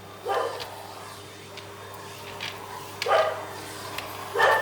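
A dog barks in short, sharp bursts, three or four separate barks spaced a second or more apart, at moderate distance in a quiet evening garden.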